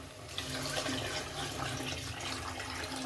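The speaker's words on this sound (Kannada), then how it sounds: "ಇದಕ್ಕೆ ನೀರು ಹಾಕ್ಬಿಟ್ಟು ಕೂಗಿಸ್ಬಿಡೋಣ" Water poured into a cooking pot for bisi bele bath, a steady close stream of splashing liquid running for a few seconds without pause.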